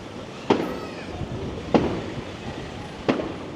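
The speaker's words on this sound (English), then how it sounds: "More fireworks going off in the distance." Distant fireworks burst over Blackpool on New Year's Eve: three separate booming bangs, each with a short echoing tail, spaced about a second apart against low crowd and street ambience.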